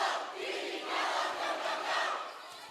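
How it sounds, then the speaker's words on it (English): Kellogg Wildcat fans cheering in the stands at a high school volleyball game against the CDA Charter Panthers: a continuous roar of crowd voices and shouts that swells and eases, fairly distant and soft. "Wildcat faithful getting real excited"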